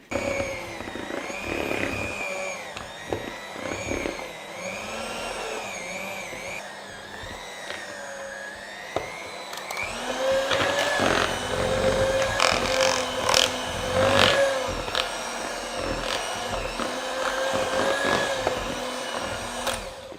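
Electric hand mixer beating butter icing for cupcakes, a whirring, wavering motor hum with clattering bursts that grows louder and busier in the second half.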